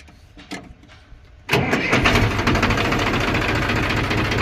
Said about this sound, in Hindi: तो एक बार ट्रैक्टर स्टार्ट करते हैं।